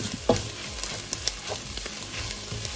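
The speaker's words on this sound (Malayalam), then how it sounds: "ഇനി ഇതെല്ലാം കൂടെ നന്നായിട്ടൊന്ന് വഴറ്റിയെടുക്കാം." Onions, spice powders and curry leaves sautéing with beef in a pan for ellum kappa, giving a steady sizzle under repeated scraping stirs and light utensil taps, close and continuous, no talk.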